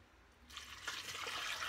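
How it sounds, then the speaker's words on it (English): Water poured into a blender jar holding a cup of soaked soybeans, a steady splashing pour that starts abruptly and continues, fairly close and moderately loud with no talking. "so I'll put that in here into my blender, and then 3 cups of water."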